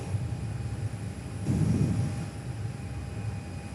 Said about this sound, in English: Jetstar just taxiing into the bay as well this morning.